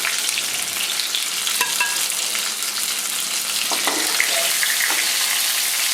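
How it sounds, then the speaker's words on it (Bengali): Potol (pointed gourd) stuffed with spices sizzles in hot oil in a pan, with a steady bright hiss and a few soft clinks and scrapes as the fried pieces are lifted out, without any talking. "আমার দু সাইড ভাজা হয়ে গেছে আমি একটা একটা করে তুলে নিচ্ছি"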